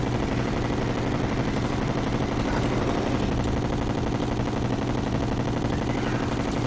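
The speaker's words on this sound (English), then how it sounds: "Oh, we're down to crystal bullets now." Dense, continuous rapid-fire gunfire from crystal bullets in the video game Terraria, a steady loud stream of overlapping shots with no pauses across the whole stretch, during an Expert Mode Moon Lord boss fight.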